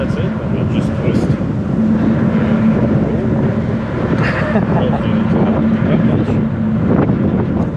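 A Tarform electric motorcycle is ridden under throttle, a continuous hum buried under heavy, steady wind rush at close range, with a voice faintly present.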